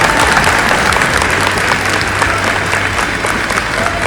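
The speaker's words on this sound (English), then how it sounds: "I think we owe them one more round of applause." Audience at a university open house gives a sustained, loud round of applause, dense and even throughout without talk.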